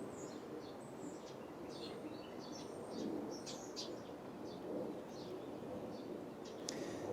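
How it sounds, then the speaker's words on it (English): Birds singing in the background outdoors, scattered thin chirps and short tweets, faint and distant over a steady low ambient rumble. "the birds that you can hear in the background here"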